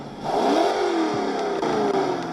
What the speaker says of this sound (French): Là, le son du moteur a changé.